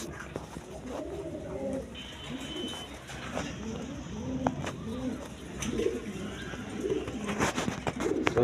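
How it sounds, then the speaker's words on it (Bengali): A pair of high-flying Giribaz pigeons feeding their chicks, giving soft repeated cooing and low throaty murmurs close by over steady background noise, with a few faint chirps. "হাই ফ্লাইং এক জোড়া গিরিবাজ কবুতর দেখেন, ওদের বাচ্চাদেরকে খাওয়াইতেছে খুব সুন্দর করে।"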